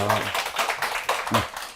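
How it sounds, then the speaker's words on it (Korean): Audience at the close of a Korean university transfer-exam lecture claps together: scattered close-range claps that stay fairly steady for a couple of seconds, with a bit of voice mixed in at the start. "그 박수 한번 칩시다"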